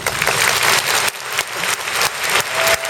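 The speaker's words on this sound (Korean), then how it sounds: "다시 한번 큰 박수 부탁드립니다" An audience gives a loud, dense round of applause at a lecture event, a continuous close roar of clapping with slight surges.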